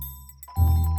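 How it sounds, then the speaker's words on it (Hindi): A bell is rung once at a door, a bright ringing tone that starts partway in and sustains to the end after near silence. "अब बजाऊंगा प्यार की घंटी"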